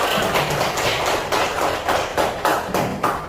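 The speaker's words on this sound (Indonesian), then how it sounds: "Tepuk tangan untuk kita semua." A group claps in a patterned rhythm, sharp hand claps in quick bursts with brief pauses, fairly close, without talking.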